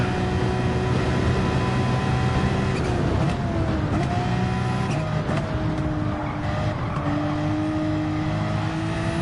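Ferrari and Porsche race cars in Gran Turismo 7 drone steadily at close range, their engines holding a loud, continuous whine with small pitch shifts as they change gear through the run.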